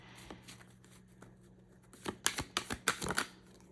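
Tarot cards shuffled by hand: faint soft riffles at first, then a run of sharper, louder flicking and slapping bursts in quick succession near the end, close up with no speech.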